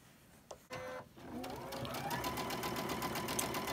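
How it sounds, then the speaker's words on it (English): A sewing machine joins two quilt blocks, starting after a couple of short clicks and then running steadily in a fast, even mechanical rattle, close and moderately quiet, with no talk. "And that's what I'm doing now, is I'm sewing those two together."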